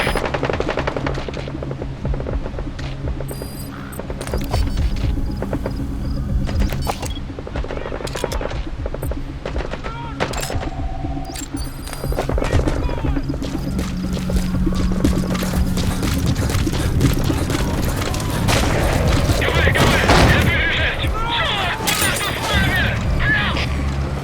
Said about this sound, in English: Begin cover fire. Prepare to fire.